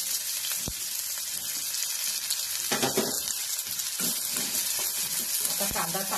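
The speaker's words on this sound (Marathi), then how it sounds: "आता कांदा चांगला भाजायचा," Chopped onion frying in well-heated oil for a spicy pavta usal, a steady close sizzle with a few soft stirring clinks.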